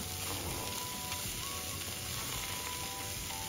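Tofu frying in a pan with fish and lean pork for a tomato and scorpionfish soup, giving a steady, continuous sizzle close by with no talking.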